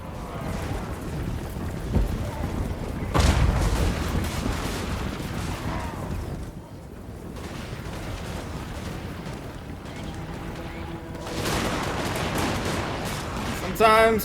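Massed musket volleys from Dwarven Thunderers in a Warhammer battle roar as dense, sustained gunfire, with heavier bursts at the start and near the end, continuous and loud.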